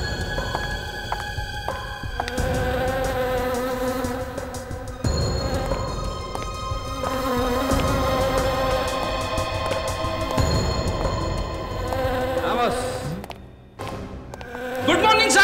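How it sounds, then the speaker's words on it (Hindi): A honeybee buzzes around a corpse in a crime-drama scene, its steady drone lingering over layered dramatic background music and sound effects. "ये मधुमक्खी तो इसकी नाक पे जाके बैठ गई"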